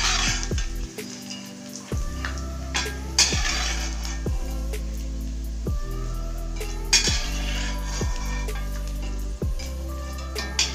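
Roasted peanuts for poha are tipped from the pan into a metal vessel, giving a regular series of sharp metallic clinks and scrapes roughly every second, with a rattling patter of nuts between them and no talk.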